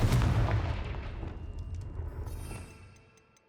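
A Confringo fire-blast spell in the video game Hogwarts Legacy explodes as a loud, booming burst that rumbles and fades away over about three seconds, with faint crackles trailing off.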